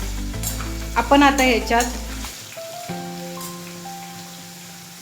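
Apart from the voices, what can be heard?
food sautéing in hot oil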